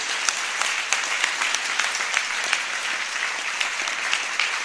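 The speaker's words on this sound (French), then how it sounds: "Clap for the angel." A church congregation claps in a dense, steady round of applause that carries evenly throughout, loud and close, with no voices over it.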